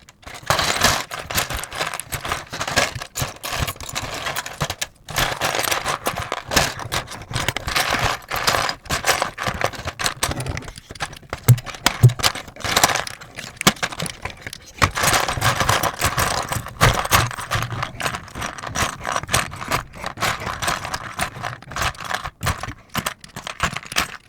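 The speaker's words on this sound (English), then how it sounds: "Spread out your keys the way you want it and then get to popping off the old keys." Old keycaps are popped off a keyboard with a keycap puller, giving a fast, dense run of sharp plastic clicks and clacks that continues almost without pause, close and loud, with no talk.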